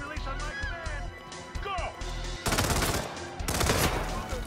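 Gunfire in the virtual-reality game Hitman VR set in Marrakesh, with dense rapid bursts of shots erupting over and after a speaking voice, loud and near in the second half.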